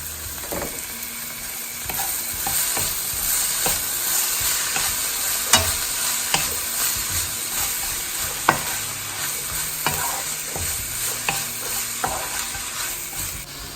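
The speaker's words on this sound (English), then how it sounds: "I'm going to cook this for 3 to 4 minutes on high heat." Chicken fried rice frying over high heat in a pan, a steady loud sizzle with repeated sharp scrapes and clinks of a utensil stirring through it, no talking.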